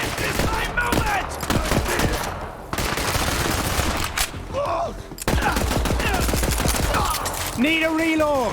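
Dense bursts of automatic gunfire in the Borderlands 3 video game, loud and nearly continuous across several seconds, broken by brief pauses, with shouted voices over the shooting.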